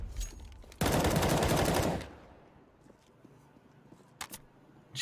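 AK rifle fire in a competitive 5v5 esports video game match rips out as one loud, close automatic burst lasting about a second, followed by quieter game sounds and faint commentary.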